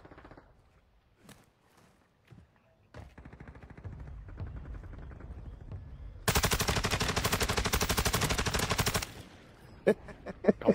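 Bursts of video-game gunfire from a shooter match, sparse single shots giving way to a loud, dense sustained volley of rapid automatic fire, then a few scattered shots as it trails off.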